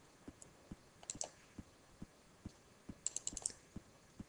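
Computer mouse clicks while operating Proface GP-Pro EX HMI software: faint, close, sparse single clicks scattered over a few seconds, with a quick cluster of several clicks near the end, in a quiet room with no talk.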